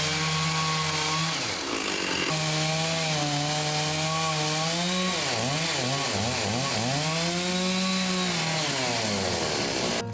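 A chainsaw cuts through very hard, dried and cracked timber, running loud and steady for the whole stretch, its engine pitch rising and dipping as the chain bites and strains.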